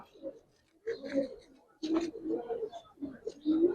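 Giribaz pigeons coo in short, soft bursts close by, several low warbling calls spaced irregularly over a few seconds with brief quiet gaps between them.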